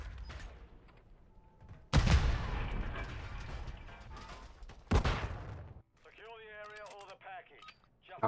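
Sniper rifle shots in a Call of Duty match, two sharp loud cracks a few seconds apart, each trailing off into a rumbling echo, with people talking nearby.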